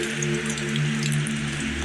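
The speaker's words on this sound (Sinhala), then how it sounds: "දැන් වැස්ස වැඩි වුණා" Steady rain falls near a cave, a soft, even patter and hiss of drops that runs constant and fairly quiet throughout, with no voices.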